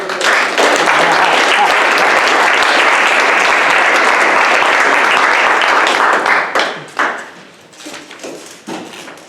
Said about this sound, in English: Please give a generous applause for distinguished Toastmaster Carmelo Belardo.